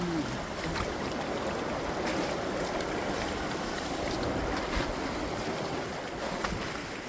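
Sea waves wash steadily onto Malpe Beach in Udupi, a dense, continuous roar of surf and wind with no talking, loud and even throughout.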